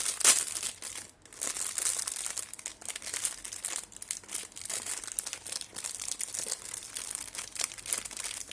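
The plastic wrapper of a small Uno mini cocoa sliced cake is opened by hand, producing close, steady crinkling and rustling with a few sharper tears, no talking.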